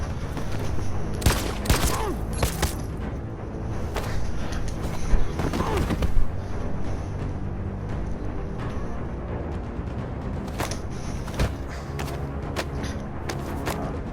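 Gunfire in the video game Detroit: Become Human erupts in several sharp, loud bursts of shots amid game sound and background noise, with a few scattered reports later on.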